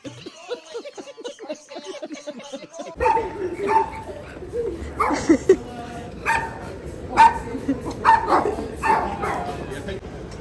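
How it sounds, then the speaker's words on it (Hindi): Dogs bark and yip repeatedly in a small town in Glenorchy, New Zealand, mid-distance and moderately loud, with short whimpers between barks and people talking nearby. "बेचारे भौंक रहे"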